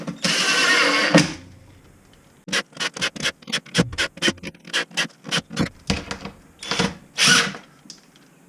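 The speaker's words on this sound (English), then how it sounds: "So now with all those pre-tapped screws, just screw them all in." Power drill driving pre-tapped screws while installing a Formica-topped cash wrap counter: one longer whirring run, then a quick series of short, evenly spaced bursts as each screw seats. Close and fairly loud, without speech.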